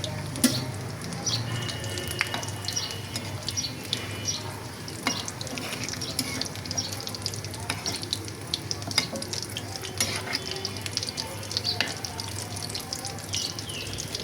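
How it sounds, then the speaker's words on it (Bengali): Egg and potato chops, dipped in beaten egg and coated in breadcrumbs, frying in hot oil with a dense continuous sizzle and scattered crackles and pops, close up, with occasional utensil clinks and no talking. "এখন এগুলাকে ভেজে নিচ্ছি। প্রথমে ডিমের মধ্যে এই যে লিকুইড ডিমের মধ্যে চুবিয়ে তারপরে ব্রেড গামে কোট করে দিয়ে দিচ্ছি।"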